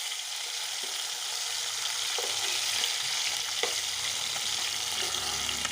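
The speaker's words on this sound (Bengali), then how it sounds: "দেখতেই পাচ্ছ লাল লাল লাল মাছ ভাজা হয়ে গেছে" Pieces of rohu fish fry in hot oil for a Bengali mustard fish curry, giving a steady, dense sizzle that runs unbroken, with a few faint clinks of a utensil turning the fish.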